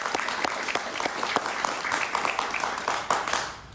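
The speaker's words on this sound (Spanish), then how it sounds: "Un aplauso para él, por favor." A studio audience at a television interview show claps steadily for several seconds, a dense, lively round of applause with no voices on top.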